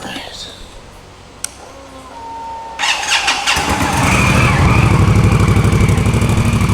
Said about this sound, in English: She needs a new exhaust.